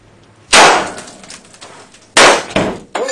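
Gunshots strike and break a laptop: two loud, sharp cracking impacts with a glassy, clanging smash, followed by a smaller hit and a brief ringing rattle.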